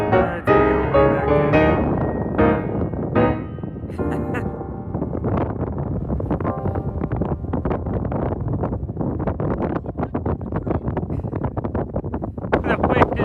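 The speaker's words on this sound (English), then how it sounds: "The wind is crazy" Strong wind blowing over sand dunes on a coastal golf outing in Coos Bay, Oregon, a loud roaring buffet that batters the microphone throughout, with voices talking over it.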